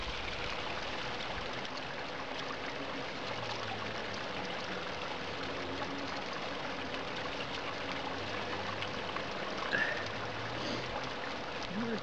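Water flows steadily from a spring at an equipped rest stop with benches, a continuous close trickling and gurgling wash with faint low hum underneath, no voices.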